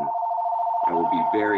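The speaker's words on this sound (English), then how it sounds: "sorry about that phone noise in the background." A telephone rings in the background during an ecommerce webinar, a steady electronic tone running under a speaker's voice.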